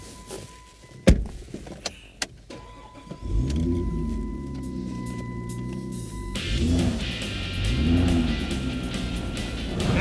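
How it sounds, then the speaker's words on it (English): An old hot rod Ford, insured for £80,000, drives past with a steady, throaty engine drone that rises and swells as it accelerates, loud and close. "And it does go as you imagine an old hot rod Ford really would."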